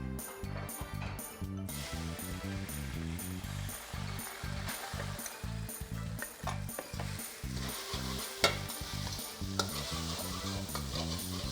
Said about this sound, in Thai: ก่อนอื่นผมจะคั่วเส้นรามเมงให้หอมก่อนครับ ผมตั้งกระทะให้ร้อน ผมใส่น้ำมันก่อนครับ